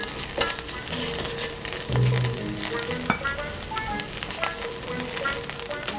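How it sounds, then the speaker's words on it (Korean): Squid is stir-fried quickly in a hot pan, making a loud, close, continuous sizzle, with knocks and scrapes from tossing and stirring scattered throughout and no voices. "그리고 준비한 오징어를 넣고 재빨리 섞으며 볶아줍니다."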